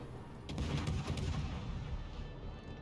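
Naval gunfire from a Gearing-class destroyer in World of Warships, a run of muffled, booming shots clustered near the start over a dense, steady battle rumble, with no talk.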